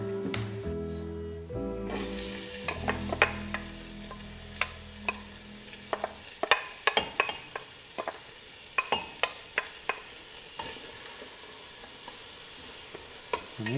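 Vegetables for a kale and chorizo soup sweat and sizzle in a hot pan, a soft steady frying hiss after an initial clatter, punctuated by scattered sharp pops and spoon stirring taps.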